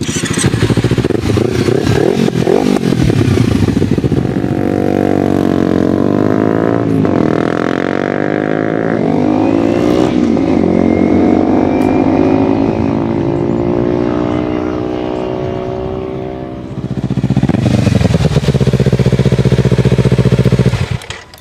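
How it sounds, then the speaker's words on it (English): A Honda CBR 250R and a Kawasaki Ninja 300 sport bike being ridden on the street, their engines droning loud and steady with rising and falling revs, easing off briefly before a strong acceleration near the end. "Alright, so now Space Pod is going to ride the CBR 250R."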